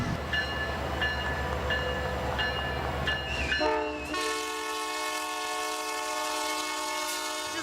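A train pulls in at a family Christmas event, rumbling and clattering before a long, loud horn blast sounds and holds steady to the end.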